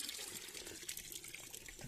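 Water from a spring trickles and splashes continuously, faint and close, with a gentle burbling flow and no voices.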